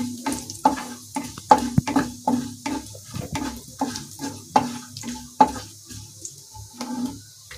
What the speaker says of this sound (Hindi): इन मसालों को मैं इसके अंदर डाल दूंगी। और इसे मैं अच्छे से भून लूंगी मसालों को।